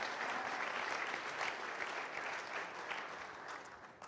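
An audience at a mayor's State of the City address claps in a sustained, even burst, heard from a distance and tapering slightly at the end.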